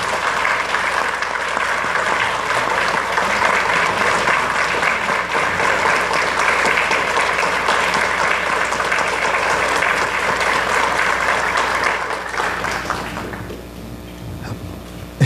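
Sustained, dense applause from a church congregation follows a sermon, steady and full for about twelve seconds before thinning out and fading near the end.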